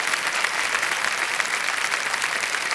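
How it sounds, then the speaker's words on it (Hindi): Studio audience applause on the set of Kaun Banega Crorepati after a contestant wins 25 lakh rupees, a dense, steady roar of clapping filling the whole stretch at even loudness. "तालियां बज जाएं इनके लिए।"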